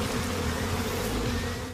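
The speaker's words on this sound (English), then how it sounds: "The principal finds Felice covered in bees" A dense, steady swarm of bees buzzes loudly and continuously in a television episode's bee attack scene, with no speech.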